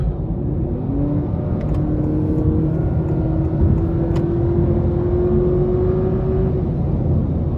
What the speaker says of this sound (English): Now the engine tends to get a bit loud.